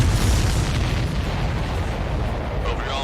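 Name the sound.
explosions in Ace Combat 7 video game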